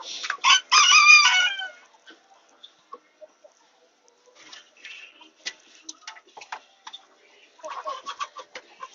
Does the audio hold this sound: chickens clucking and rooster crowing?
yes